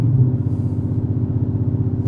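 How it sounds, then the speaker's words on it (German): A Shelby GT500 exhaust drones low around 2000 rpm, a soft, steady, pulsing hum heard briefly and alone. "Jetzt eben hast du gehört, so leichtes Dröhnen, so komisches Geräusch."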